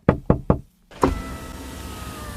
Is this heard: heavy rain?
no